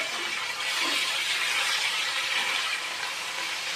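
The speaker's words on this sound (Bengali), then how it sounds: "মাছটা ভালো করে ভেজে নিতে হবে" Fish sizzles steadily in hot oil in a pan, being fried for a thin fish curry, a continuous loud, even hiss close by with no talking.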